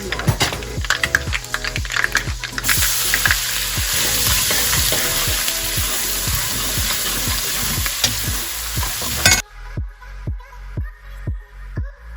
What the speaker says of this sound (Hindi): मॉम ने अभी तड़का लगा दिया है